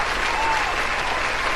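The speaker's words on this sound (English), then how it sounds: "Let's give her a round of applause for it" A dense, steady round of applause from an audience, many hands clapping at once, loud and close, filling the whole stretch without a break.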